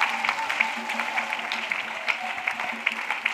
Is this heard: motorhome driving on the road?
no